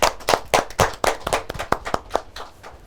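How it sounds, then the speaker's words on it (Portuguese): A small group claps in a loose, uneven rhythm, distinct close-up hand claps that thin out and soften toward the end, with no talking. "a primeira ronda termina sempre com uma salva de palmas"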